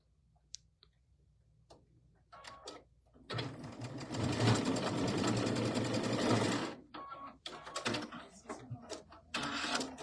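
A sewing machine stitches a diagonal quilt seam in a fast, dense mechanical chatter lasting a few seconds, framed by quieter ticks and short bursts of stitching before and after, close and clear.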